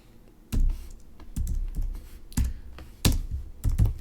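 Computer keyboard keys clack in short, uneven bursts of a few strokes each while someone types Scala code, crisp and close by, with no talking.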